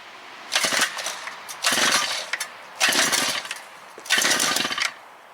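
A Harbor Freight Predator 52cc two-stroke auger powerhead is pull-started up close, giving four separate rasping, sputtering bursts about a second apart with brief quiet gaps between them.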